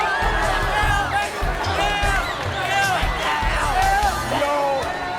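Home crowd cheering and rushing the floor after Piner's upset win over Healdsburg at a high school basketball game, with loud, sustained roaring, whoops and dense chatter, plus thudding footsteps underneath.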